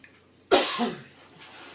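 A single sharp cough bursts out close by, followed by a brief fading rasp and quiet room tone.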